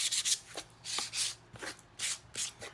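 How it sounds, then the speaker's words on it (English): Sandpaper rubs back and forth along the edges of an assemblage art piece in short, rhythmic rasping strokes, close and fairly quiet, with brief gaps between passes. "I'm going to take a piece of sandpaper and just rough up my edges"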